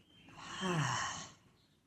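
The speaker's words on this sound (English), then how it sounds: "And then exhale, let it out." A single soft exhale during a yoga backbend session: a quiet, breathy sigh that swells and fades over about a second, close and alone.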